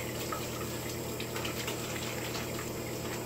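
Water runs steadily while a printed shirt is washed, a constant rushing splash with no breaks, fairly close and unaccompanied by speech.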